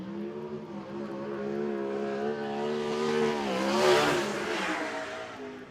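A winged sprint car on a time trial lap at Cromwell, its engine note rising and falling as it passes through the turns, moderately loud and steady with no talking.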